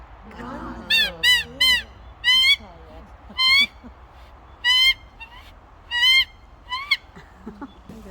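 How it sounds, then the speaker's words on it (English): Cockatoos call in Western Australia's Wadandi Bibbulmun Country: a series of loud, harsh, rasping screeches in short separate bursts spread across the clip, with faint low voices and background murmur in the first seconds. "cockatoos."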